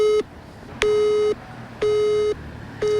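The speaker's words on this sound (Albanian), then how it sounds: "Telefonin na fiket prapë." A telephone call tone sounds as the call drops: a steady electronic beep repeats four times, each about half a second long with even gaps, loud and alone.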